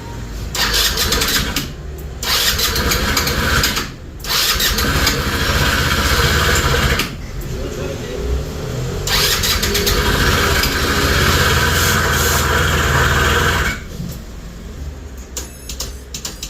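A motor cranking and catching, then running loudly up close with a rough, steady mechanical roar interrupted by a few brief stalls and restarts.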